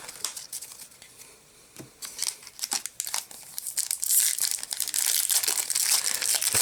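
Crinkly plastic wrapper of a Magic: The Gathering Fate Reforged booster pack being torn open and crumpled up close, a run of sharp crackling tears that builds into dense, loud rustling.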